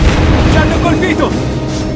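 A shell strikes a warship in the naval combat game World of Warships Blitz: one deep, loud, rumbling boom under dense battle noise. An announcer voice is heard in the game mix.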